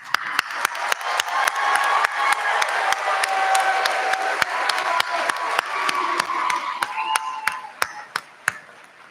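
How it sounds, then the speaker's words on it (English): A law school commencement audience gives a sustained, enthusiastic round of applause, dense clapping with a few sharp, distinct claps standing out, which thins and tapers off toward the end. "join me in a final enthusiastic round of applause"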